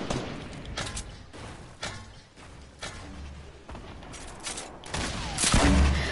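Gunfire in a first-person shooter match, sharp cracks and bursts spread unevenly through the stretch, with a louder, denser volley near the end over constant background noise.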